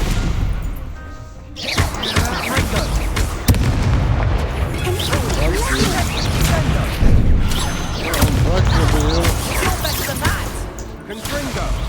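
Repeated spell blasts and explosions in Hogwarts Legacy, loud booms and crackling bursts in quick succession throughout a duel, with a voice calling out spells over the combat.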